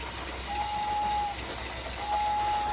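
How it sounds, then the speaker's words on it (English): A toy train engine circling a living room gives two short, steady whistle toots over a constant rumbling running noise, close and moderately loud. "We have the engine in front, and it's blowing its whistle."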